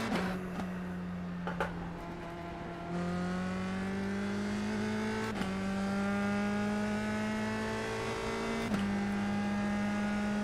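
A race car lapping a track in the iRacing simulator, its engine droning steadily and climbing in pitch through the gears, with sharp drops at each upshift, loud and continuous with no talking.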